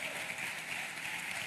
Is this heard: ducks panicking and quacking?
no